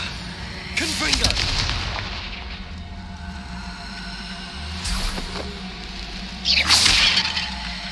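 Confringo fire-blast spell cast in the Hogwarts Legacy video game: sharp booming bursts with whooshing cracks, one near the start, another mid-clip and a loud one near the end, over a steady low game ambience.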